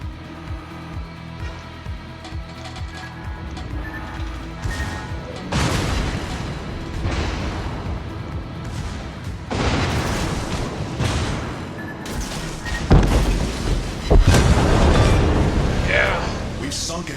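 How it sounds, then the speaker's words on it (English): Booming explosions and crashing blasts in a World of Warships naval battle as an enemy destroyer sinks, several loud bursts over steady rumble, with a voice talking over parts of it. "We've sunk an enemy destroyer."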